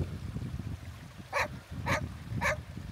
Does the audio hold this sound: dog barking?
yes